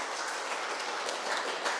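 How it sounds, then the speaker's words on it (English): An audience at a history talk and book review applauds a speaker with a faint, steady patter of clapping that holds evenly throughout, heard from a distance with no voices over it. "Please give a round of applause."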